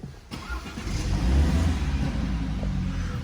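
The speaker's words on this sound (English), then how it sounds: "Start the car." A 2019 BMW 420i M Sport Gran Coupe engine cranks and catches, then settles into a low, steady idle rumble close by.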